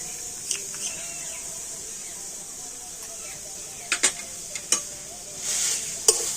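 Grated old coconut and sugarcane jaggery get stirred together in a kadai, with faint scattered scrapes and clicks from the spoon over a quiet background hiss.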